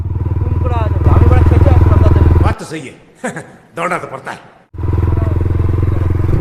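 A motorcycle engine drones loud and close at a steady pitch, breaks off for a couple of seconds while voices talk, then returns to the same sustained running sound.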